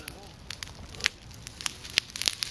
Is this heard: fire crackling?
yes